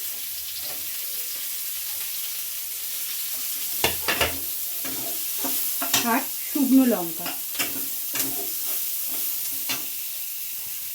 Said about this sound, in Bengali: পেঁয়াজগুলো লাল করে ভাজা হয়ে গেছে